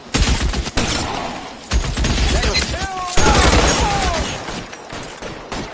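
Rapid bursts of gunfire and sharp gunshots in an L.A. Noire shootout, loud and sustained through the whole stretch, with shouting voices over the shots.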